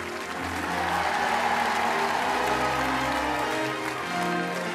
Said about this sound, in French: Et on applaudit fort, évidemment, Mireille et Julien